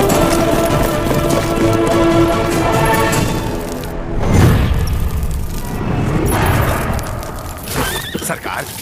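Horse hooves clip-clop during a dubbed Hindi action film scene, mixed under a dense musical score, with a horse whinny and a heavy boom partway through; no clear talk over it.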